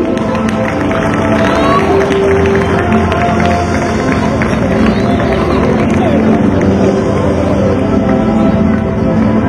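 At a school valedictory function, an audience keeps up steady clapping and cheering, a dense, loud wash of hands and crowd babble continuing without pause.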